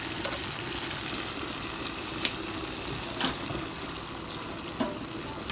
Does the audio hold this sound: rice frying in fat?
yes